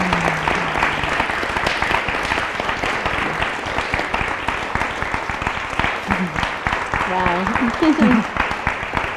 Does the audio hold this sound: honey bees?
no